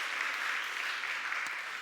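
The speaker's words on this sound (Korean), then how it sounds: "우리 격려의 박수, 축복의 박수 하도록 하겠습니다" Church congregation in a Korean Sunday service applauding in blessing of a visiting family, a brief, steady, moderately soft patter of many hands clapping at once, with no voices.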